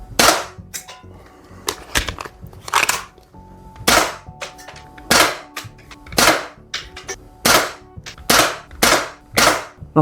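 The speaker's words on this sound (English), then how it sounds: "I'm just going to do a load of shots on the target." An Umarex SPA 60 air gun fires a rapid series of about fifteen sharp, loud shots at a target. Each crack ends in a short rattle, and some shots come in quick pairs.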